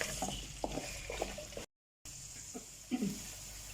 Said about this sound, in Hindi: तो जी 5 मिनट अरवी को हमने कर लिया है फ्राई।